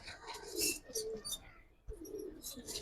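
Giribaz pigeons coo and call softly at a low level in two short bursts with a brief gap between, with faint chirps mixed in and no talking.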